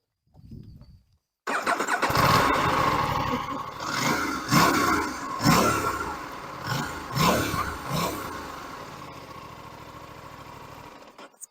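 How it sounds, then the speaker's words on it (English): An Aprilia RS 457 parallel-twin motorcycle engine cranks and fires up close by, then settles into idle. Several sharp revs rise and fall before it drops back to a steady idle. "If I just start it up for you, you'll be able to hear it."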